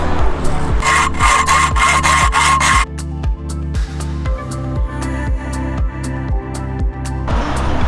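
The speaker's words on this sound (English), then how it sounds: "Next up is we've got to cut the roof rack. I've got my saw." Hand saw cutting through a metal roof rack on a Ford Transit van: steady rapid back-and-forth strokes, close and loud, with a brighter rasping stretch at the start before settling into a rhythmic grinding cut.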